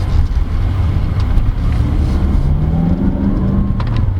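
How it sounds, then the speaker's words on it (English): A 2018 Mazda CX-9 2.5 Grand Touring AWD SUV under hard, floored throttle, its engine rumbling steadily and loud with rising tone as it accelerates, heard from inside the cabin with no talking. "When you immediately mash the throttle, it wants to keep on going."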